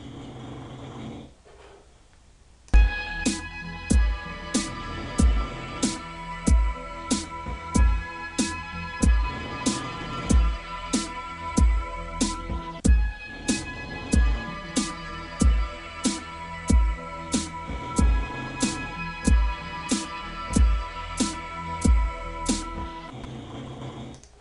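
Drumline music made in Sony Acid Pro 7 plays back with crisp, regular snare and cymbal hits over a low repeating bass pulse, steady and rhythmic throughout.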